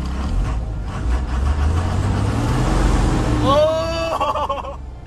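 A large truck's engine revved from inside the cab, a deep rumbling drone that swells and holds before easing off, with a voice speaking over it near the end.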